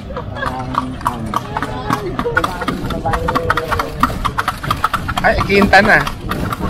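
Horse hooves clip-clopping as the animal pulls a kalesa carriage through Vigan streets, a steady, close rhythm of hoof strikes running under people talking, with other street sounds in the background.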